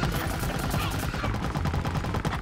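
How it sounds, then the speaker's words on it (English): Rapid automatic gunfire in Plants vs Zombies Garden Warfare 2, a dense, loud, steady stream of quick shots fired in close succession. "Yeah, you just keep shooting at me."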